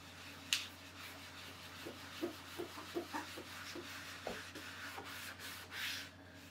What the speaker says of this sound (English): If I put some alcohol gel on the envelope and rub it